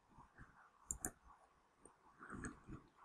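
A computer mouse gives a quick double click, two crisp taps close together, faint and close against a quiet room with a few soft scattered knocks.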